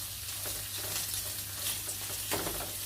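Shrimp and garlic stir-fried in a pan for shrimp fried rice, a steady close sizzle with scraping stirring strokes throughout, no talking.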